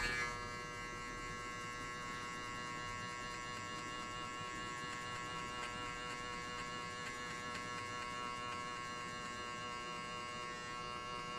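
Electric hair clippers buzz steadily and close up throughout a high skin fade buzz cut, a constant humming drone with no talking.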